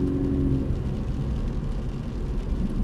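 A Toyota GT86 drives on the Paul Ricard circuit, its engine a steady, loud low rumble heard from close by with a constant whir and no voices.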